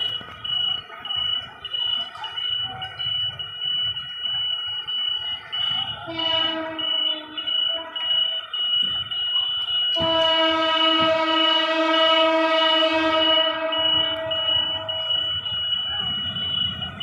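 A train on a Bangladesh railway line passes close by, its horn blaring in a long sustained blast after a shorter one, over the continuous rumble and clatter of the cars rolling past.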